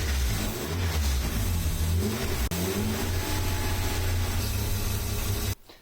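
A car engine with carbon fibre inlet manifolds runs steadily nearby, its revs shifting up and down while brake or carb cleaner is sprayed around the inlet manifold; the sound stops abruptly at the end.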